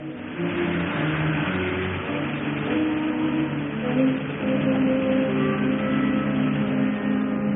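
A car engine turns over and settles into a steady, throaty run with light revving, close and continuous for several seconds in a film scene, with no voices.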